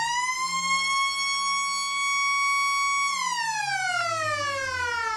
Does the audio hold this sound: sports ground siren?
yes